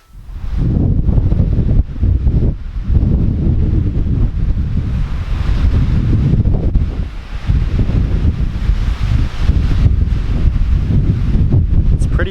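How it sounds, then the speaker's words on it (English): Loud, gusty wind buffets the microphone throughout, a continuous low roar with brief dips. "It's windy though."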